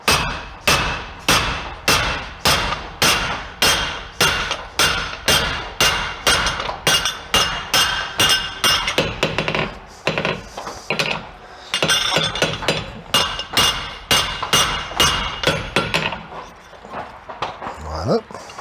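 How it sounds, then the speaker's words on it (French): A hammer strikes a horseshoe egg bar plate on an anvil in steady, ringing blows about twice a second, pausing briefly midway before resuming, with a voice speaking over the forging. "Et je le pose sur l'enclume et je commence à forger l'egg plate dedans."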